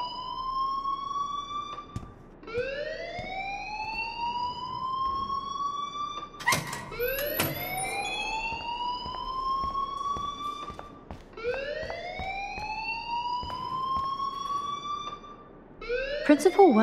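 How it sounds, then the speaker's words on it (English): A school alarm blares in the Life Is Strange video game, a loud rising electronic wail repeating in long sweeping cycles, one after another, with a sharp burst partway through. "please turn off that alarm since that's your job"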